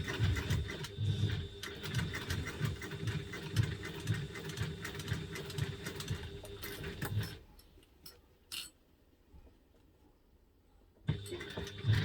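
Home sewing machine stitching a small zipped fabric wallet, a steady rapid mechanical chatter for about seven seconds, then stopping to near silence before briefly starting again at the end.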